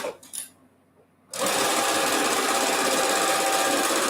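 A domestic sewing machine stitches quilt sashing: after a few faint clicks and a brief quiet moment, the motor kicks in with a loud, steady, rapid whirring hum that runs unbroken to the end.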